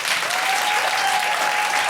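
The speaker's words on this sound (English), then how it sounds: "Can you give me a round of applause for a second?" An audience at an Edinburgh comedy preview claps in a dense, loud, sustained round of applause that fills the whole moment without pause.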